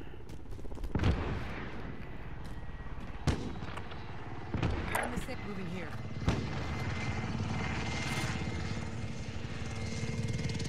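Airstrike explosions in Call of Duty: Modern Warfare: several heavy, widely spaced booms land over a constant rotor-like aircraft drone, and voices talk throughout.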